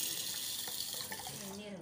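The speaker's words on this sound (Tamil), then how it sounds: "இப்போ இது மூழ்கிற அளவுக்கு நம்ம வந்து தண்ணி ஆட் பண்ணிடலாம்." Water pours from a tap or jug over washed green gram (mung beans) in a vessel to soak, a soft, steady gush close by with light clinks.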